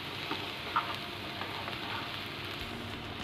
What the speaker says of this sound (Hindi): अब हम डालेंगे इसमें नूडल्स और इसे अच्छे से मिक्स करें